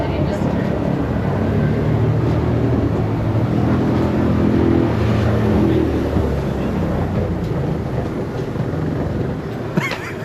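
A PBY Catalina flying on one engine after a mid-flight engine failure, a steady heavy propeller-engine drone heard from inside the cabin, loud and continuous throughout.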